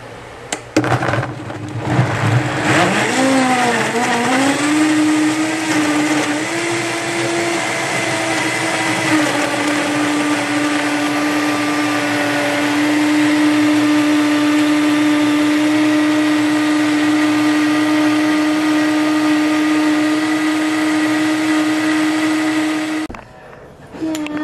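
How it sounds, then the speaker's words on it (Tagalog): A blender blends oatmeal with ice and water. The motor starts with a few rough bursts, then settles into a loud, steady whirring whine for about twenty seconds before cutting off. "So, now, i-blend na natin siya."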